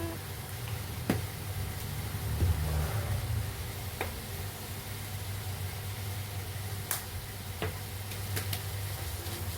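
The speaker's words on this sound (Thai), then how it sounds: "ผัดเครื่องให้เข้าที่นุ่มๆ" Ingredients for a baked spinach and cheese dish being stir-fried in a pan after salt and pepper are added, a soft continuous sizzle with occasional scrapes and clicks of the utensil against the pan.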